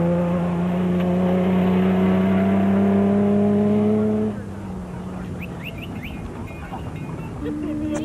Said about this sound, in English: Woolridge and Scholthammer continued to nurse the Team Ford Racing Ranger to the designated service point